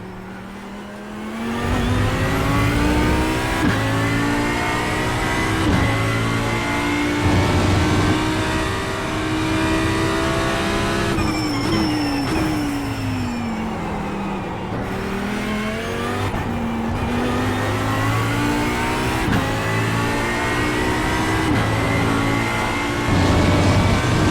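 Audi race car in the iRacing sim, its engine droning and revving steadily throughout, with pitch rising and falling through gear changes and a tire-scrub whine midway; loud and continuous, no talk.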